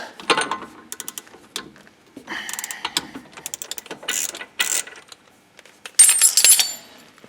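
A large size 32 key is turned on the axle nut of a Peugeot 307 to remove it, giving a series of close metallic ratcheting clicks and clanks in irregular bursts, with no voices.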